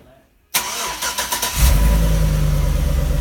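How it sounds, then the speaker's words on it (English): A Chevy Avalanche is started by a Viper 5105V remote start: after brief quiet, the starter cranks with a series of rapid pulses, then the engine catches and settles into a loud steady idle. "and the engine cranks"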